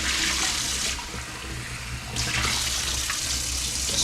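Tap water runs steadily into a sink while food is rinsed under it for a pasta dish, a continuous loud rushing splash that swells and thins slightly with no voices.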